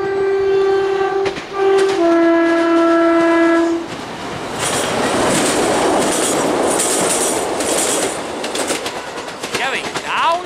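A loud three-tone train horn blares in several long blasts, then two class 153 diesel trains rush close by Whitlingham Junction with rumbling, clattering wheels that fill the rest of the clip.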